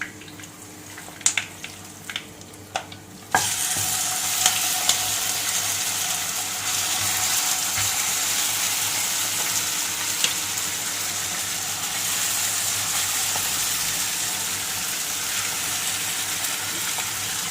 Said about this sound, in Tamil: இப்போ நம்ம ரெடி பண்ணி வச்சுருக்க சிக்கனை போட்டுடலாம்.